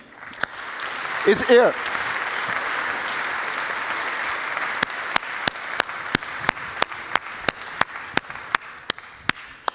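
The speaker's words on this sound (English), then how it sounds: "So please, big applause for the co-founder of Augmented Magic, Gamgie." Audience applause at the Unite Europe 2016 developer conference, greeting the co-founder of Augmented Magic onstage. A steady, full wash of clapping with a brief voice early on, thinning into sharp, evenly spaced individual claps toward the end.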